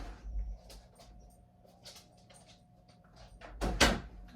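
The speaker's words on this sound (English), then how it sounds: "My dog's knocking at the door." Soft, scattered knocks and bumps of a dog pawing at a house door, with a louder clatter near the end, all faint and close in an otherwise quiet room.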